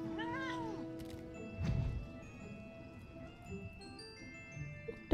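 A cat in Final Fantasy XIV gives a few rising-falling meows near the start, followed by a soft thud and low game ambience with faint tonal music underneath.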